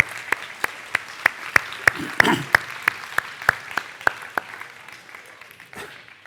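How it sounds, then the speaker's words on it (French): Audience applauding in a hall during a French town mayor's New Year address, with regular sharp claps sounding like rhythmic, synchronized clapping that fades out toward the end. "On applaudit Charlie."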